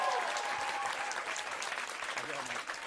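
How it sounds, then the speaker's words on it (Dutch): A studio audience applauds steadily for a comedian being introduced at a live show in Leeuwarden, dense clapping filling the room at close range, with a faint voice briefly heard beneath it. "Applaus."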